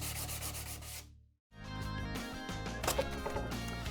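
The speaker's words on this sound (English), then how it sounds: "to finish it up, a little 120 grit sandpaper" Sandpaper of 120 grit rubs along a veneer edge in short close strokes, pausing briefly midway before the scratchy rubbing resumes.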